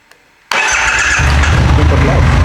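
After a brief silence a Triumph Rocket 3 motorcycle engine, in neutral, cranks and fires up abruptly, then settles into a loud, rumbling idle close by.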